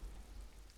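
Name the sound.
rain in the video game Disco Elysium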